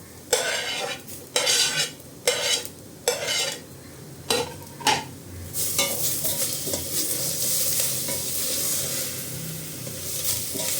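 Grated cucumber being stirred into cooked rice in a pan for cucumber rice, with a series of scraping spoon strokes at the start and then a steady, close sizzle.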